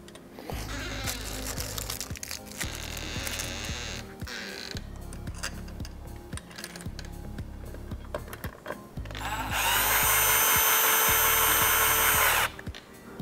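A power drill drives long screws into a keyless-entry deadbolt and door handle during a home install, running in several loud whirring bursts with short pauses and ending in one longer, higher-pitched run near the close.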